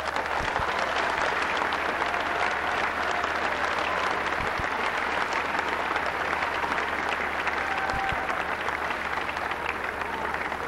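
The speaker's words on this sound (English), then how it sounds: "can we please have a round of applause for all these young ladies and gentlemen" Crowd applause fills an amateur boxing event hall, a dense and steady roar of clapping that holds at even loudness throughout with no voices on top.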